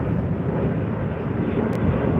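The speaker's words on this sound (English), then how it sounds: "There goes our Qantas flight to Auckland, finally" A Qantas airliner departs for Auckland with a steady, broad jet roar. It sounds fairly loud and unbroken, with a little wind noise on the microphone.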